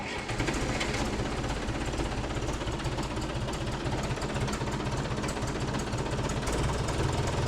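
An old abandoned barn-find bulldozer engine runs steadily on its own, a loud, continuous rough diesel clatter with a rapid knocking rhythm close by, filling the whole stretch without a break.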